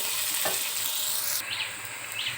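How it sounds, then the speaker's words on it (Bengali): Onions frying in oil, a loud steady sizzle with a brief utensil scrape early on, the hiss dropping a little partway through as it settles, no one speaking. "আরেকটু তেল দিচ্ছি দিয়ে আমি পেঁয়াজটা নরম করে ভেজে নেব"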